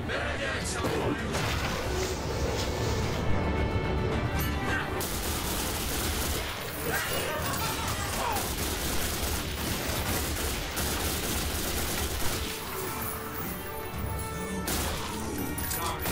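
Gunfire from shooting enemies in The Darkness 2 keeps up a dense, continuous barrage of shots and crashes that stays loud throughout, with a voice talking underneath.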